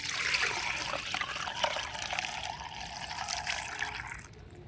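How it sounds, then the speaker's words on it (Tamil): Liquid plant spray solution made with gram flour is poured through a filter, giving a steady close trickle and splash of water that runs continuously for several seconds and thins out near the end. "இந்த கரைசலையும் வடிகட்டிக்கலாம்."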